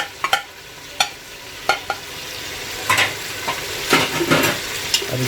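Ground spices and sesame powder sizzle in a hot frying pan while a spoon scrapes and knocks against the metal in irregular sharp taps, close and clear.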